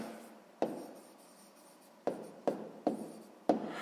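Pen writing down the answer to a sixth-grade math exercise by hand, a few soft scratchy strokes and taps on paper in short separate bursts, quiet and close with no talk.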